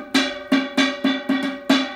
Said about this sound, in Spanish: Este es un tarrito. Y mira cómo suena.